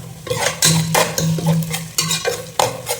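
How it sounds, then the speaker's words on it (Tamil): Broken dried red chillies going into frying masala for ayala fish curry, with loud, close spoon-against-pan scraping and clatter in bursts over a low sizzle. "இப்போ வரமிளகும் இப்போ உடச்சி போட்டுடுறேன்"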